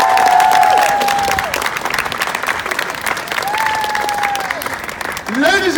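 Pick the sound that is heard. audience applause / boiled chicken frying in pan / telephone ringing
audience applause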